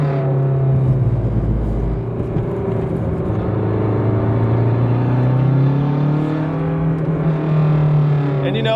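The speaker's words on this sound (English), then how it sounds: "Listen to that exhaust. It almost sounds like a Shelby GT350R." A Lancia Hyena Zagato hatchback's exhaust drones loud and steady while driving, its note holding then rising and falling slightly through gear changes, close and continuous throughout.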